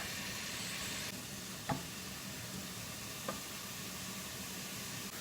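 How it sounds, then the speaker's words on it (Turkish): Steady hiss of three grated medium carrots sizzling in hot oil in a pot, with two brief soft knocks partway through. "Yağım ısınırken 3 adet rendelenmiş orta boy havucu yağımın içerisine ekliyorum."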